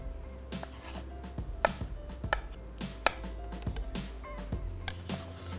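A knife chops boiled eggs into small pieces on a board, with steady, fairly quick thuds close by and a faint background hum, no talking.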